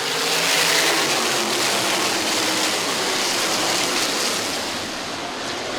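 A pack of race cars roars into the Must See Racing Little 500 start, a dense, steady wall of engine noise that swells slightly early on and holds loud throughout.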